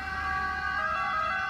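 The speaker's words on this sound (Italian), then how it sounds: "Il tipico esempio è il suono della sirena di un'ambulanza." A two-tone ambulance siren sounds steadily and fairly loud on its own, its pitch shifting slightly as it passes by, illustrating the Doppler effect.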